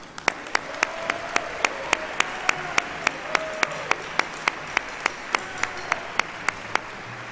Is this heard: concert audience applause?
yes